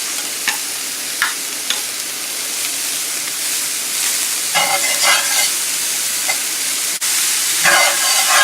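Pork scraps frying in a pan, a loud continuous sizzle and crackle with occasional stirring scrapes and brief bursts of spatter, close and unbroken by talk.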